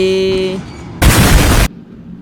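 In World of Warships, a warship explodes: a loud, roaring blast bursts in after a brief electronic tone, sustained for under a second before cutting off abruptly.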